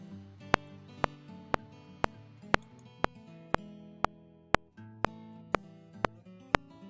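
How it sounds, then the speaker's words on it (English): Sharp metronome clicks from Logic Pro tick at an even, steady pulse about twice a second during recording, sitting clearly above a softer bed of sustained musical tones, with no talking. "Once you activate the metronome and click on the record button,"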